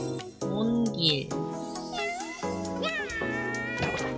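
A cute cat character in a game trailer shown at Summer Game Fest 2025 gives several sliding, high meows over steady background music. The sound is clear and close.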